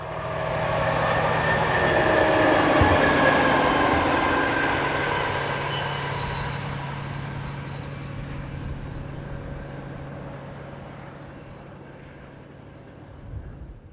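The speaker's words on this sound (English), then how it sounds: "Next up was a short ballast working, heading for the non-electrified line towards Nancy." A French diesel locomotive, number 64619, hauls a short ballast train on a non-electrified line toward Nancy, producing a loud engine drone and rumbling wagons that pass close by and then slowly fade into the distance.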